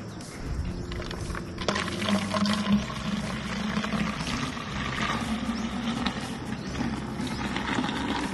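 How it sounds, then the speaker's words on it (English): Tuba, Filipino palm-tree moonshine, being poured, a continuous splashing trickle of liquid at moderate volume over steady background noise for several seconds. "Here's the tuba, guys. Okay. Let me just pour"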